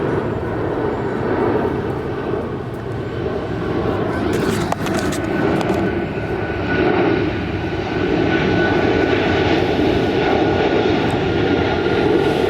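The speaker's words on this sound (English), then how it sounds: "plane overhead" An airplane passing overhead outdoors, a steady loud engine drone that holds throughout with a slight swell, no talk over it.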